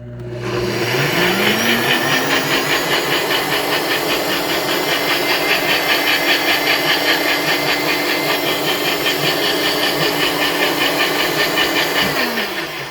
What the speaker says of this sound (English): I have cut those up and I am blending this